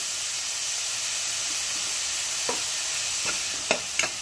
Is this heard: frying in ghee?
yes